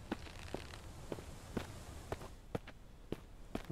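Footsteps of someone walking in the survival game Mist Survival, a string of soft, evenly spaced steps heard alone over a quiet background.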